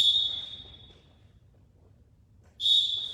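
A coach's whistle at wrestling practice sounds two sharp, shrill blasts, one at the start fading out and another loud one near the end, with quiet room noise between.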